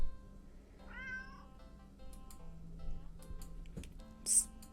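A video game cat with black fur meows once in a short rising-falling call, fairly clear and close against a quiet ambient background, followed by faint soft clicks.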